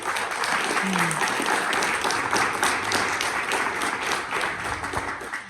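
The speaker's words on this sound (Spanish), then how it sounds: "Un aplauso para él, por favor." Audience applause at a formal presentation, dense sustained clapping from a crowd that continues evenly throughout at a strong level.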